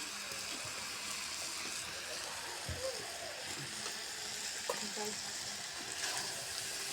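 Oil sizzles in a wok before whole spices go in for a pigeon curry, a moderate steady crackle with a few stirring knocks and clinks, and a voice faintly in the background.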